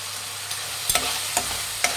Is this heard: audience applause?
no